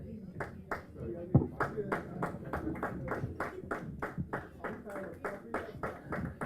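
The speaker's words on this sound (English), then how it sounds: "I think when the Zimbabweans are coming, Nigerians are clapping more." An audience at a university graduation ceremony in Dubai claps in a steady, even rhythm of fairly sharp hand claps, moderately quiet, with voices murmuring underneath.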